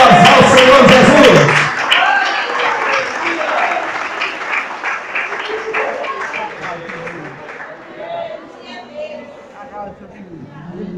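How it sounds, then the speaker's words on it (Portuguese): A Pentecostal evangelical church congregation bursts into loud applause for two seconds, then keeps clapping at a lower level under voices and chatter as the sound slowly tapers. "A igreja deu uma grande salva de palmas ao Senhor Jesus."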